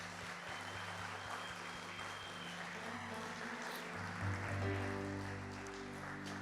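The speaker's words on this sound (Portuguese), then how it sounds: "A salva de palmas para Jesus." A church congregation claps for Jesus in sustained, dense applause that swells slightly toward the end, with a low held musical tone underneath. No speech.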